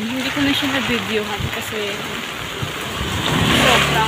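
Heavy rain pours down in a dense, steady hiss, with a vehicle engine rumbling nearby, while a person talks over it throughout.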